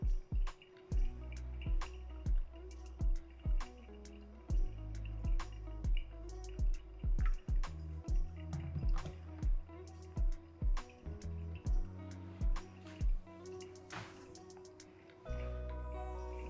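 Brewed Mexican coffee dripping through an Orea glass dripper, a regular series of close, distinct drips falling one after another at a steady pace with small liquid splashes, near and fairly quiet.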